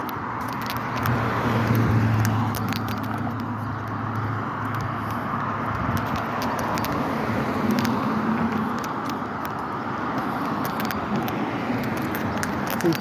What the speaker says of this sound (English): See, traffic is going pretty good now.